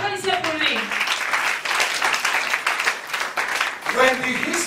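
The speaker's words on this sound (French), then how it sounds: "Applaudissez pour lui." Congregation applause during a bilingual church service led by a bishop, moderate steady clapping throughout, briefly overlapping with a voice at the start and end.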